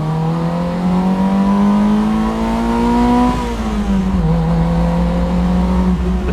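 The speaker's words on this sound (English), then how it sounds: "The sounds that this car makes are just unbelievable." A Honda S600 engine runs steadily while driving, a loud, close buzzing drone that rises in pitch, dips briefly and then settles again, with no talking over it.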